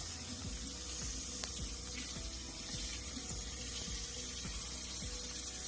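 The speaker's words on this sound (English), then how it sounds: "Rinse it with hot water on the outside." Hot tap water runs steadily over a silicone feeder bladder being rinsed, a continuous close hiss of running water with a few faint knocks and clicks underneath.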